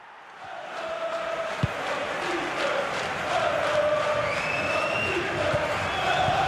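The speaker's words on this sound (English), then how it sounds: "just listen to this crowd. They want a bit more." Simulated stadium crowd in the football game FC Mobile roars steadily throughout, a broad sustained cheer with rising chants and whistles, loud and continuous with a single sharp thump near the start.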